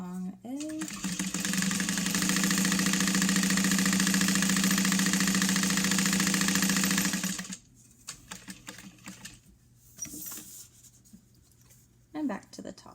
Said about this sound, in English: Pivot. And sew down the long edge.